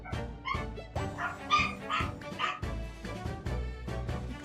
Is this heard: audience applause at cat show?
no